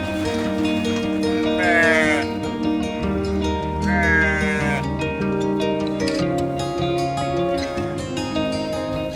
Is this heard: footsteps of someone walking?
no